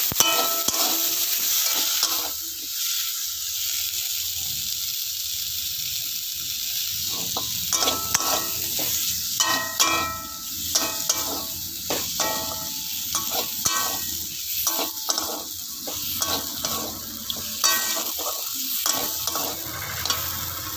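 Ginger sizzles and fries in a pan for chickpea ghugni, with a steady hiss and repeated scraping stirs of a spatula against the pan throughout, moderately close and without talk.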